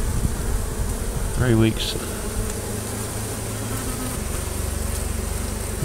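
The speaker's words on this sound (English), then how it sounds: "That was a decent sized swarm there when they came in" A swarm of bees buzzing during a hive removal, a dense continuous hum close by with a brief louder surge, and a few spoken words over it.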